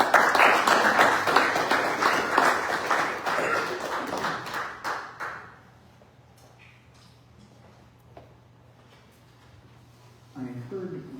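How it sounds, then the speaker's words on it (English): Audience clapping for a band during a church service, loud and dense for about five seconds, then fading to quiet room tone before a voice begins near the end. "let's give them a big round of applause."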